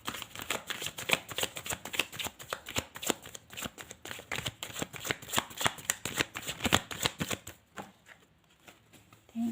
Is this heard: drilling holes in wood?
no